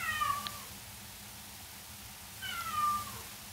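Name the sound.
cat meowing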